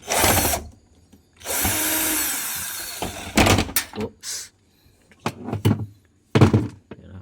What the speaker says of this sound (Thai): ถอดน็อตตัวนี้ออกตัวเดียวนะครับ